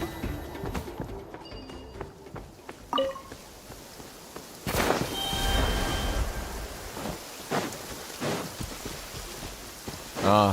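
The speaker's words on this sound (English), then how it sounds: "This heavy rain must be quite an inconvenience for you." Heavy rain falling in the Genshin Impact video game, a steady wash of downpour with scattered louder thumps and rumbles, a surge of noise midway, and occasional game sounds over it.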